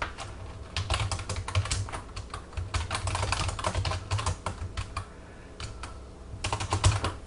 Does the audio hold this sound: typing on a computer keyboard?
yes